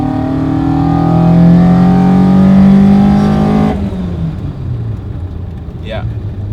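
A 1989 Toyota Corolla with a swapped 4A-GE engine pulls hard in second gear, its note rising steadily and loud before cutting off abruptly near the end, leaving a lower idle-like hum with a brief squeak.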